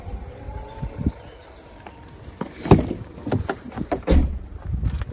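The powered boot of a Mercedes CLA 200d Sport closes at the press of a button, a quiet spell of faint mechanical whirring and scattered clicks and knocks ending in a soft thud near the end.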